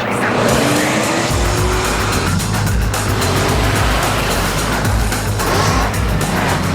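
A car engine revs hard while tires hiss and slide on snow, loud and close, with a steady rumbling drive and skidding throughout.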